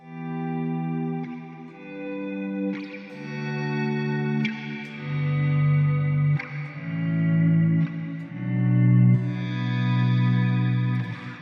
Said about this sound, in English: So you have the swell function. It's going to swell the reverb, and you don't even have to use a volume pedal.